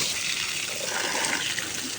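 Water sprays steadily onto rooftop garden plants, a continuous close hiss and patter lasting a couple of seconds with no talking.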